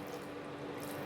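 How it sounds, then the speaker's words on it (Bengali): Water is poured in a small stream into a pan of fried potatoes and softened peas for a spiced potato-pea curry, making a steady, close, continuous trickle with no talking. "আর অল্প করে একটু জল দিচ্ছি,"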